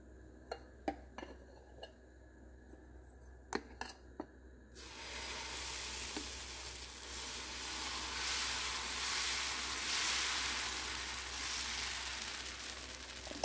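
Dosa batter for an egg dosa hits a hot pan and bursts into a loud, steady hiss of sizzling that holds to the end. A few sharp utensil clicks come first, and a final clack sounds at the close.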